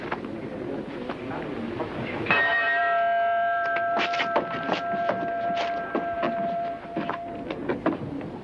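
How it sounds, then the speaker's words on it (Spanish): A single bell strikes and rings out with a long sustained tone, heard over a busy background of clatter and murmuring. "Watson, toque la campana una vez"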